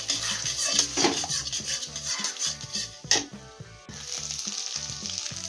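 Eggs frying in oil in a kadai, seasoned with a little salt, sizzle steadily with a dense crackle under rhythmic pulsing background music, with brief clinks and scrapes of a utensil.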